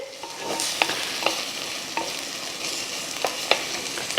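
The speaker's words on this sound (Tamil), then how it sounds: "முட்டையை உடச்சி விட்டி அப்படியே இந்த பூவோட நல்லா கிளறி விடுங்க" Egg and agathi flowers fry in a pan while being stirred, with a soft continuous sizzle and light intermittent clicks of a spatula against the pan.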